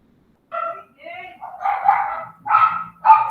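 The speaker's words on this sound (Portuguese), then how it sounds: "os cachorros latindo aqui na vizinhança" Several yapping dog barks from close by in the neighborhood, coming in short bursts with brief pauses between them.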